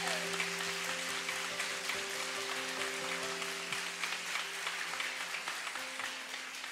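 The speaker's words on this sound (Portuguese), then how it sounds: "Aplaude e glorifique esse Deus." Audience at a Catholic prayer gathering claps steadily for several seconds, a broad wash of applause layered over held keyboard or organ chords.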